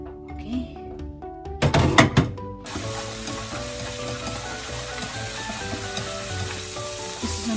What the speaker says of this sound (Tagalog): So ngayon, ikigisa na po. Bawang at saka luya.